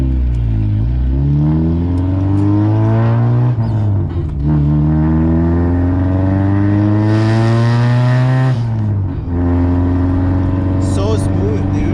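A 1994 Honda Civic CX with a B16 engine, run without its silencer, revs loudly and close up in long rising and falling sweeps that fill the whole stretch, with a brief dip before climbing again.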